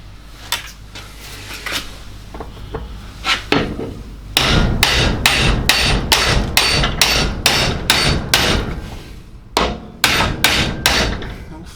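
A hammer strikes an Alfa Romeo 156 CV axle clamped in a vise: sharp metallic blows, a few scattered at first, then a fast steady run of loud close hits, a pause, and more hits.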